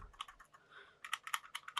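A run of quick, light plastic clicks comes from an Iron Man-themed computer mouse, a short cluster followed by a brief pause and then a faster volley, close and quiet with no voices.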